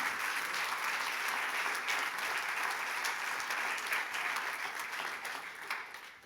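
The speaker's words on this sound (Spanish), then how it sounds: "Dele fuerte el aplauso al Señor" Church congregation applauding together, a dense, steady wash of clapping that fills the room and holds evenly throughout, tapering slightly toward the end.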